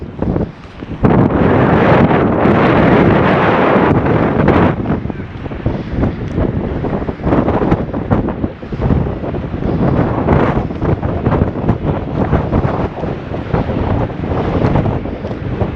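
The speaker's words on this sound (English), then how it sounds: "Very windy now." Strong wind blows across a lake shore, roaring and buffeting the microphone in loud, uneven gusts for the whole stretch, with faint water sounds underneath and no one speaking.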